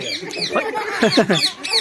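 A parrot gives rapid, harsh squawks and chattering calls up close, in quick bursts that rise and fall in pitch with only brief gaps between them.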